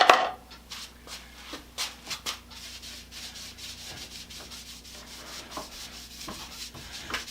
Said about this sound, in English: Put on some Boston polish wax made by the BWC company